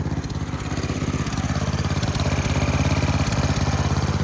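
The small engine of a homemade 4x4 mini Jeep idles close by, a loud, steady, rhythmic putter with a low throbbing beat and no talking.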